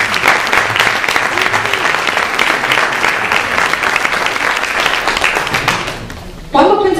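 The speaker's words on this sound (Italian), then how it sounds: "vorrei che faceste per lei un grande applauso." A theatre audience breaks into loud, sustained applause for several seconds. It thins and fades toward the end before a voice cuts in at the close.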